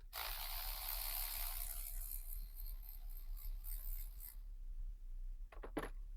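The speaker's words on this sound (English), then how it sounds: "So I've got this 8mm socket on top of my ratchet. Make sure you have it in reverse, and let's pull these off." An 8mm socket on a ratchet backs bolts out of a Chevy Silverado or GMC Sierra 1500 engine during spark plug replacement. Steady close rasping clicks run for several seconds, then go quiet, followed by a few sharp metallic ticks.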